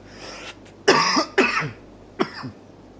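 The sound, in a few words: cough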